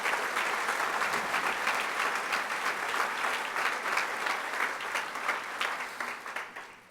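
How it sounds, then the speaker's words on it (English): A lecture hall audience at an academic science conference gives a warm, even round of applause that holds steady and then tapers off near the end, with no talking over it. "Let's give them a round of applause to show our appreciation."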